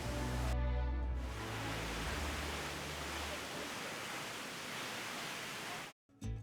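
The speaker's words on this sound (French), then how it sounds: "la cascade des anges. Les cascades d'Injus." Broad steady roar of a waterfall, the Cascade dos Anjos on Madeira, rushing close and loud for most of the time, with a brief low rumble at the start and a sudden cut near the end.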